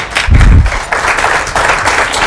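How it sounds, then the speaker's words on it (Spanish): A burst of applause from an audience at a book presentation, clapping that swells briefly and continues steadily at moderate loudness. "le cedo la palabra ahora sí, y un aplauso para Eric Javier Huerta."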